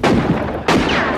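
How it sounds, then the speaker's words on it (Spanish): Two loud, close gunshots in a Western film scene, each a sharp crack followed by a rolling echo, roughly half a second apart with no talk. "Si eso es todo lo bien que disparan"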